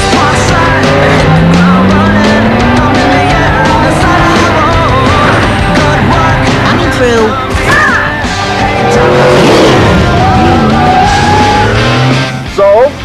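A frantic car chase through Las Vegas, engine racing and tires squealing in rising and falling sweeps, loud and close under a dense cartoon soundtrack with shouting voices throughout.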